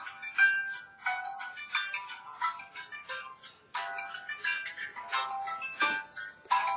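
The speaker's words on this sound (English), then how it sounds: "Now we'll go to ringtone number 12." Phone ringtone number 12 plays alone as a bright, repeating electronic melody of short tonal bursts, moderately faint and clean.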